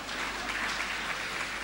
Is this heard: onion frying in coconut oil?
no